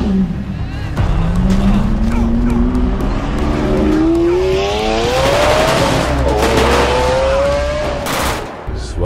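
A car in a video game revving and accelerating, its engine pitch climbing steadily with tire squeal, loud and close throughout, over a busy background of game noise and faint gunfire.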